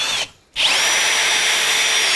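A Kobalt 24V brushless 1/2-inch drill (KDD 1424A-03) in drill mode overdrives a screw into wood, a loud, high whirring motor whine that stops briefly, then restarts and runs steadily at full speed.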